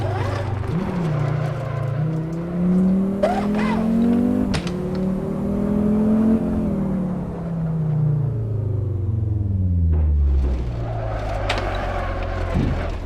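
A Golf Mk7 engine in the racing game Assetto Corsa roars and revs up and down, pitch climbing and dropping through gears, loud and close with brief sharp clicks.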